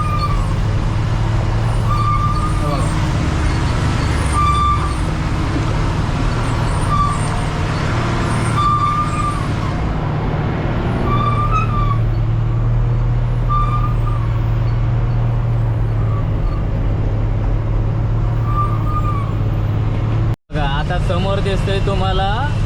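A loaded goods truck rolls slowly down a steep ghat slope on the Pune–Mumbai route near Lonavala, with a loud, steady engine drone, periodic high beeps and a brief brake hiss, under a voice talking.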